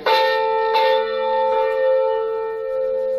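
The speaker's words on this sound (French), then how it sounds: "le son de cloche d'une église catholique pour annoncer la messe matinale" A Catholic church bell rings to announce morning mass, sounding three clear strikes about three-quarters of a second apart, each leaving a long, shimmering hum that carries between hits.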